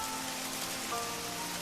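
Steady rain pattering on a surface in a Hindi cartoon, an even, continuous hiss of falling drops with no voices.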